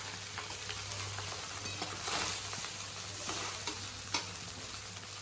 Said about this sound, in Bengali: সম্পূর্ণটাকে আমি মিশিয়ে নেব।